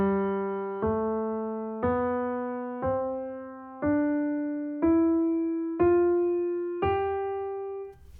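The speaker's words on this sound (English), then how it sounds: "the Mixolydian sounds like this." Jazz guitar playing the Mixolydian scale as eight evenly spaced single notes, each plucked cleanly and left to decay before the next, stepping upward in pitch.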